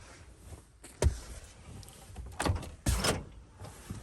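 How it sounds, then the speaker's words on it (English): The sliding door of a T1N Sprinter van is pushed shut with electric locks. There is a quiet rumble, then a sharp thud, followed by two more clunks a few seconds apart, close by with no talking. "when I push that closed, it should lock all the doors in the van"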